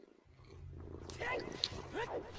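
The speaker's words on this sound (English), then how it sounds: "And now I hear the purring." Low, steady purring of a cat runs throughout, close to the microphone, with people talking over it in the background.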